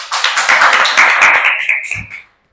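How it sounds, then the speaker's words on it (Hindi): An audience at a coaching-school gathering claps to welcome a student, a quick, busy patter of hands close by that stops abruptly. "ताली बजाएं सब लोग।"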